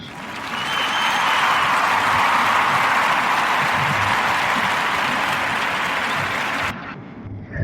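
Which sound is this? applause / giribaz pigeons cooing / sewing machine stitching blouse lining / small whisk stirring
applause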